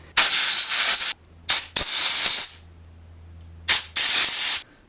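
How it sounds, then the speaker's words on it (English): Compressed air blasts into the bolt holes of a Honda CB350 starter motor during a rebuild, coming as several loud, hissing bursts of about a second each, separated by quiet gaps with a faint low hum. "get some compressed air and clean inside these bolt holes here"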